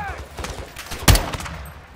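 Gunfire in Call of Duty: Modern Warfare 2 (2022) during a campaign firefight at a gate wall, with scattered shots and one sharp, loud blast near the middle amid shouting voices.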